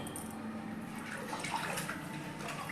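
Water pours steadily into a pot of mutton korma to boil the meat, giving a continuous, close rushing splash with no voice over it.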